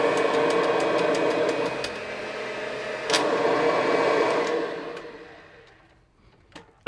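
A Kirby vacuum cleaner runs on carpet at its highest height setting, a steady motor whine with clicking spikes that fades and winds down toward the end.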